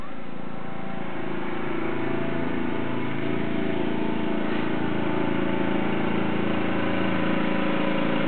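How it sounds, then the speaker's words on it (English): A John Deere lawn tractor's engine idles in a steady, unbroken drone, close and loud, holding the same even hum throughout with no voices. "Way too excited about a lawn tractor."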